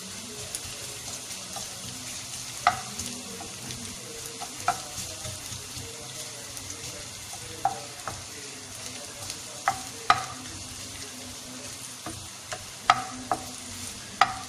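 Chicken frying in a pan for mini pizza makes a continuous low sizzle, broken by sharp clicks and taps of a utensil against the pan at irregular intervals.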